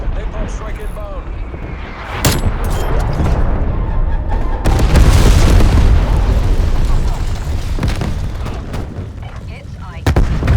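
A napalm strike in Black Ops Cold War lands with a heavy booming roar of explosions and fiery rumble that swells and lingers, with sharp gunfire bursts and in-game voice callouts over it.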